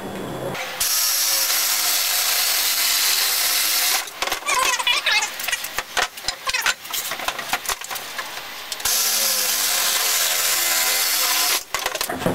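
A battery sawzall reciprocating saw cuts through PVC pipe with a loud, harsh buzz in long bursts, broken by short pauses and a stretch of rattling as the blade moves through the plastic.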